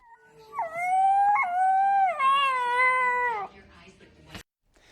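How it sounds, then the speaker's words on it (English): A seven-week-old gray wolf pup gives a single long, wavering howl up close, rising and dipping in pitch, followed by a brief click and silence. "Simpson is a 7-week-old gray wolf pup found abandoned on private property near Condon, Montana"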